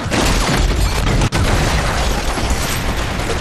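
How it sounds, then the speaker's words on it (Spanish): A loud explosion roars through the scene, a dense, sustained blast with a brief sharp dropout partway before the rumble resumes at full strength. "Tras la explosión"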